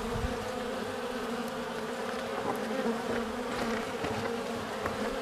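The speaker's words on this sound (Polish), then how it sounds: "bo pszczoły latają" A dense, continuous buzz of many honeybees flying around hives nearby, steady droning with no voices over it.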